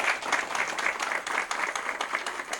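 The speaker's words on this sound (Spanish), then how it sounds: "Den un aplauso al Señor." A church congregation at a Bible study service claps together in steady, continuous applause, moderately loud with dense overlapping hand claps and no talking.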